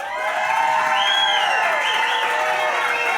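A large football crowd in Buffalo cheers and applauds loudly and steadily, with whistles and whoops rising above the roar.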